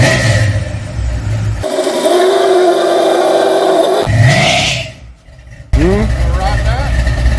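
A chromed, polished big block 454 V8 car engine revs loudly and steadily close by, dropping off briefly before surging again, with people talking over it.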